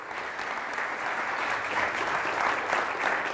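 An audience claps steadily for a speaker about to take the stage, a dense, even wash of many hands with no voices on top, holding level from start to finish.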